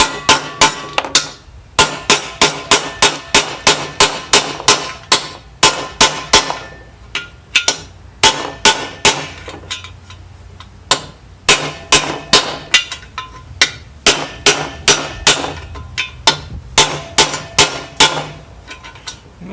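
Rapid rhythmic metallic hammer blows on an aluminum bearing race installation tool during Getrag 5-speed transmission assembly for an R50 Mini, dozens of sharp ringing strikes in bursts with brief pauses, close and loud.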